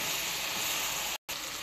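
Ground spices including cumin, coriander, nutmeg, mace and chili powder sizzle steadily in a hot pan for a chicken and pointed gourd curry, a continuous close hiss with a brief cut.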